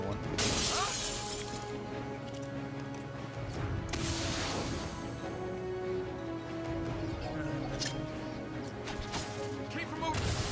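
Glass shattering in the Arkham City video game, loud crashing bursts of breaking glass with a long rattling debris tail, mixed with game noise and a talking voice.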